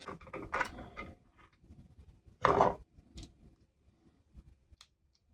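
A plastic case of 3D printed fillet gauges is handled and opened close by, light clicks and rattles followed by one sharp snapping clack, then scattered small taps fading to quiet.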